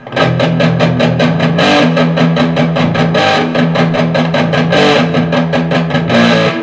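An electric guitar played through a Marshall JCM 800 distortion pedal with every knob maxed blasts out loud, thick, heavily distorted chugging riffs with rhythmic palm-muted stabs throughout.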